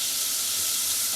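Garlic frying in hot oil in a home kitchen at night, a steady, close hiss with fine crackle that holds evenly for the whole moment without any voices.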